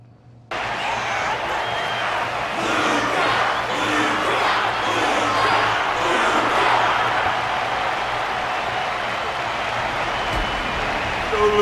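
In the Honkai Star Rail game, an arena audience cheers and applauds after a fight, a loud, sustained crowd roar with scattered shouts that rises and falls slightly and continues to the end.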